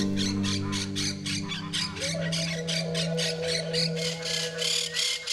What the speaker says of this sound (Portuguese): Habitando colônias com vários indivíduos aparentados, as catorritas se comunicam o tempo inteiro.